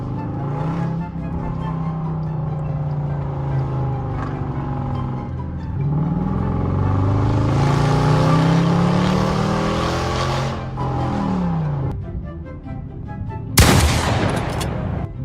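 A Dodge Durango R/T with a straight-piped exhaust drives hard, its loud engine droning and climbing in pitch as it accelerates. The note shifts through gears, then ends in a sudden sharp exhaust crack near the end.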